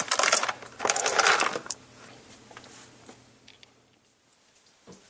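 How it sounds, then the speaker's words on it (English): Loose 223 Remington brass cartridge cases are shaken and rolled together with sizing lube, giving a bright metallic jingle and clatter that fades to a few scattered clinks. "Just kind of slosh them around, work them around, and get them all nice and slick so they don't get stuck in the die."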